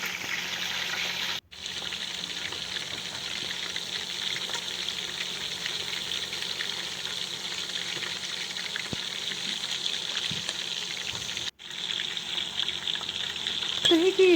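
Chicken pieces frying in a pan with onion, a continuous bright sizzle and crackle that carries on steadily, broken by two brief near-silent gaps.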